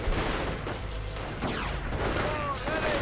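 Hummel artillery fires in a World War II strategy video game as dense, booming volleys and crackling gunfire. A voice talks over the battle noise.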